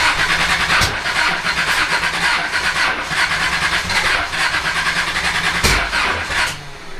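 A built Nissan 300ZX engine cranks steadily with a broadband whirring churn and a couple of sharp bursts as it tries to catch, loud and close throughout, fading slightly at the end.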